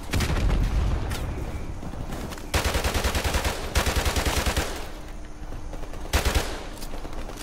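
Rapid G3 rifle gunfire in Call of Duty: Modern Warfare Remastered, loud bursts of sustained automatic fire broken by short pauses, with heavy booms and explosions in the battle around it.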